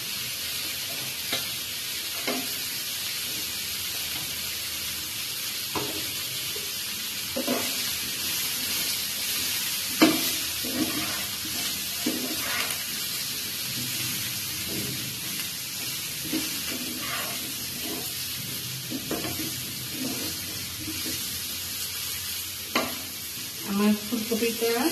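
Cauliflower fries in hot oil in a pan, giving a continuous sizzle and hiss with scattered stirring scrapes and pops that come and go throughout.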